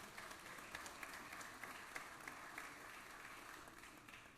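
Applause from a group of people in a state Senate chamber during a legislative session, a steady broadband patter of many hands sustained evenly from start to finish at moderate distance, with no talk over it.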